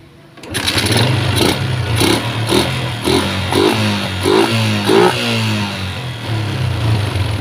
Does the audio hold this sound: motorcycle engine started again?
yes